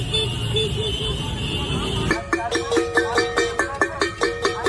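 Car horns toot in a street, first a sustained honk over traffic noise, then a rapid series of short rhythmic beeps, fairly close and loud.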